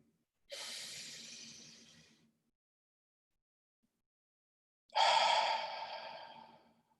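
Deep breathing exercise with two long, slow breaths, each a loud airy rush that gradually fades, separated by a few seconds of silence, close and alone.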